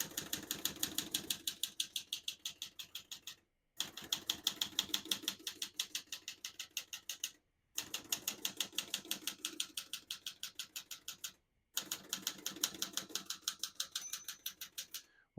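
Rapid typing on a 1971 Olivetti Lettera 32 portable manual typewriter, with dense runs of sharp key strikes broken by three short pauses, close and clear with no talk.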